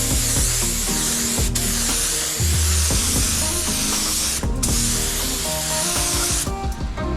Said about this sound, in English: and I'm gonna spray my clear coat.